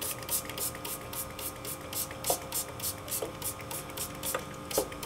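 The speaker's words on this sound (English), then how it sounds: "water bottle spray here," Plastic water spray bottle misting soil for rambutan seeds, about a dozen quick rhythmic hissing squirts in a row, close and fairly soft, with no talking over them.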